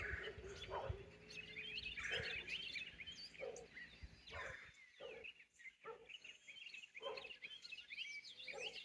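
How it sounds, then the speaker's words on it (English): Birds chirp and call outdoors at sunrise with scattered tweets across the clip, while faint dog barks sound from a distance in a quiet, open setting. "The birds and the dogs."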